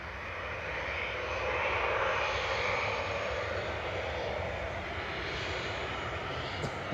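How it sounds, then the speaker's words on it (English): A parked Ryanair airliner at Manchester Airport runs its engines pointed toward the listener, a loud, steady roaring drone with a broad whine that swells slightly and holds for the whole stretch, with no talking. "We've got a Ryanair parked opposite us, just making a load of noise with its engines pointed at us."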